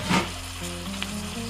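Onions and spices sautéing in a pan for mutton kabsa, a close, brief hiss of sizzling with a louder burst at the start, then a softer steady fry.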